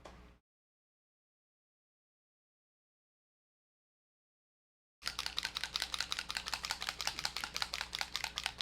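A metal agitator ball clacks rapidly inside a nearly empty bottle of glaze wash acrylic hobby paint as it is shaken, a loud, dense, continuous rattle close up with no talking, following several seconds of silence.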